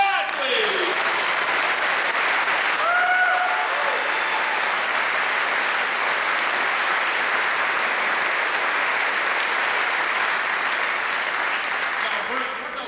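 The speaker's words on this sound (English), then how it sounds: "Give them a round of applause for that, please." A large audience applauds an all-region high school symphonic honor band, a thick, steady wash of clapping that stays loud and even throughout, with faint voices and cheers rising briefly within it.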